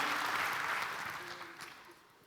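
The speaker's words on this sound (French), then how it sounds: "on peut les encourager, les applaudir" A conference audience at the Grand Rex claps broadly and quickly, the sound fading away over a couple of seconds.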